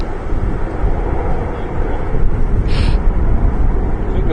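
An airliner with Pratt & Whitney engines roars past at Amsterdam Schiphol, a loud, dense, broadband engine rumble mixed with wind buffeting on the microphone, holding steady throughout.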